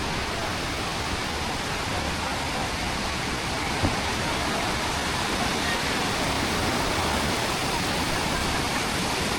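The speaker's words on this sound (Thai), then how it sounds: "น้ำตกที่ว่างามที่สุดก็คืออยู่ทางหน้านี่" A waterfall in northern Laos, a loud steady rushing roar of falling water that stays constant and close throughout, with no voices.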